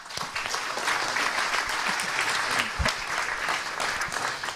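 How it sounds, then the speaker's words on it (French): Steady audience applause at a Senate conference on apprenticeship, a dense wash of many hands clapping, moderately loud and continuous with no talk over it. "On peut t'applaudir."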